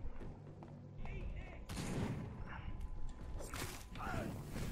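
Gunfire in Vampyr as scattered thumping shots and impacts mixed with game noise, under a person's voice.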